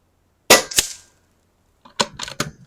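Two quick pairs of sharp air rifle shots fired with a CZ barrel at a 25 metre target, a close double crack followed after a pause by three snappy reports, loud and alone with no talk.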